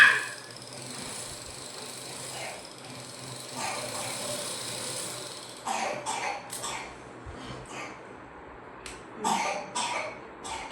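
A few harsh coughs at close range, each in short bursts separated by pauses, sounding like throat-clearing hacks over a low, faint background hum.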